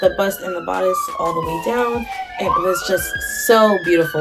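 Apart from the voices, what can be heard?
emergency vehicle sirens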